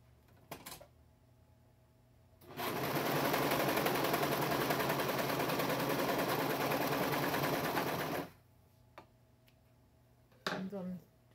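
A serger sewing machine stitches fabric for clothing in one steady, fairly loud run of about six seconds, with quiet handling clicks and thumps before and after.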